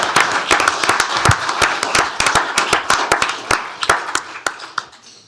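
A county commissioners court audience applauds a group of employees, with a moderate round of distinct, sharp claps from a modest crowd that thins out and fades over several seconds.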